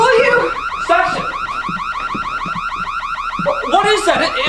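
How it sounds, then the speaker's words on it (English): A car alarm goes off nearby, a loud, rapidly warbling siren cycling evenly throughout, with short bursts of voices breaking in over it. "What is that? Is that an alarm?"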